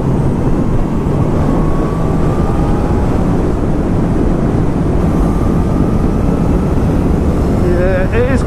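A 2019 Honda CB1000R Plus motorcycle engine revving hard at high rpm on the road, a loud continuous roar mixed with heavy wind buffeting, with a rider talking over it.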